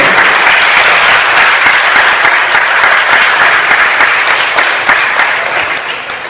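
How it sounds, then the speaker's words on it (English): An audience claps at a community presentation in Syracuse, New York, loud, dense applause that holds steady and then slowly fades toward the end. "So let's give them a round of applause"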